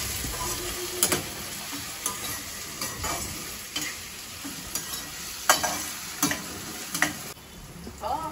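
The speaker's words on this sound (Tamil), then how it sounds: "கொஞ்சம் வதங்கின உடனே பூண்டு போட்டுருவேன்." Onions and garlic sautéing in a pan for sundakkai kara kuzhambu, a steady close sizzle broken by repeated scraping stirs of a spoon roughly every second, with no talking.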